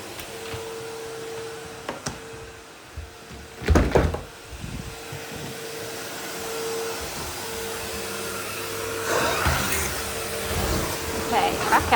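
Vacuum cleaner with a turbo brush attachment droning steadily in a home, with a few bumps and knocks along the way and brief voices in the background.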